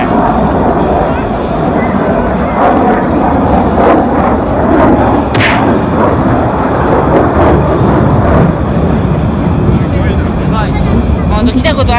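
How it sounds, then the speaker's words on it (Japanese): Military jets roar overhead at a US base air show during Iwakuni Friendship Day, a loud continuous rumble with bursts of noise while people talk nearby throughout. "飛行機がもう航空ショー始まってますから。"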